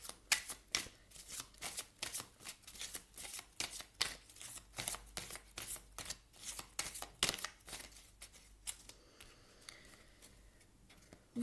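Oracle cards being shuffled by hand, a rapid run of crisp papery flicks and riffles that come in quick bursts for several seconds, close and fairly quiet, with no talking over them.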